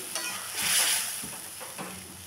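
Hot milk poured into a cooking pan heats with a soft sizzling bubble and a brief stirring scrape, close and moderately loud, no voices.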